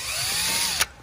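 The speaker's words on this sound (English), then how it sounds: "with the smallest drill bit that is right now to get the plastic rivets out" A small drill bit bores out plastic OEM rivets during work on an MK7 GTI, a brief high whirring drill run up close that ends in a sharp bite and then drops away.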